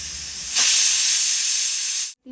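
A pressure cooker holding snake gourd curry lets off its whistle, a loud sustained steam hiss that starts sharply, holds strongly for about a second and a half, then stops suddenly.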